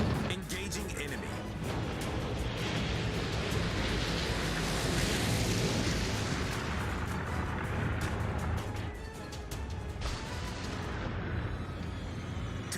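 A warship in World of Warships under enemy fire, with a continuous roar of artillery and explosions, loud and dense and rumbling throughout, with a voice talking over it.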